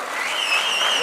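Brief applause rises at a Yadav community gathering in Chhattisgarh as guests, including a mayor, are welcomed on stage, a steady wash of clapping with a whistling tone over it and a voice briefly audible.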